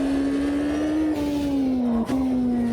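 A historic GT1 endurance race car at Road Atlanta in the Automobilista 2 sim holds a steady, loud engine drone at near-constant revs, with a slight dip and quick blip near the end.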